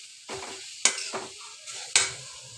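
Vegetable chop filling with chopped coriander mixed in a pan, producing a few quick rhythmic spatula scrapes and clinks against a soft sizzle, close and clear, with no speech.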